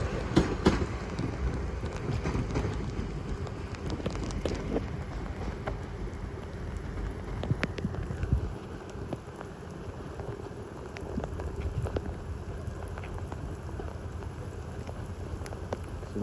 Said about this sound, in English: I was not expecting it to rain today